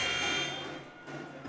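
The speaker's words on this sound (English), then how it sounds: "The buzzer sounds for the fourth quarter, the fourth part." A basketball game buzzer marks the start of the fourth quarter in an arena, a loud sustained electronic blare that rings and then fades over a second and a half.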